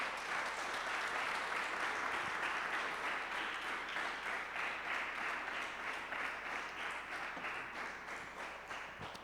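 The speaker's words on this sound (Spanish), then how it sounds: "Dale un aplauso al Señor en esta hora." A church congregation claps in steady, sustained applause, heard at a distance and fairly faint, continuing evenly throughout with no speech over it.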